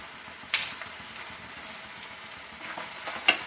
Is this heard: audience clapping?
no